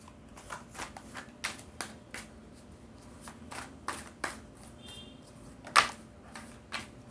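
Tarot cards being shuffled close by, a quiet series of crisp riffling bursts at irregular intervals with a sharper slap near the end.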